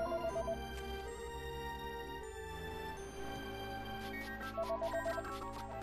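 A phone ringing in the video game Mother 3, a repeating electronic ring tone in short pulsing bursts over layered game music that plays throughout.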